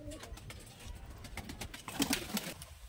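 Giribaj pigeons cooing close by: several soft, low coos, with light rustles and clicks behind them, the calls clearer toward the end.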